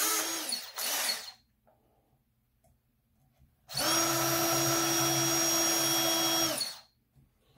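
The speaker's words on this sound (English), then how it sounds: "It's a little countersink I have." A countersink bit in a power drill cuts into a workpiece while a ball lifter kit is assembled: a short buzzing burst, a pause, then a longer steady whir of about three seconds, close and loud.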